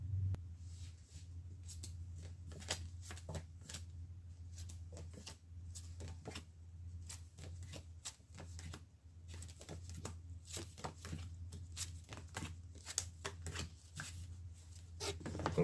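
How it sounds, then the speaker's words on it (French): Tarot cards being shuffled and drawn during a reading, a soft, close flurry of quick flicking and patting snaps repeating throughout over a low steady hum, with no talking. "maintenant, on va tirer des cartes sur la lune brisée"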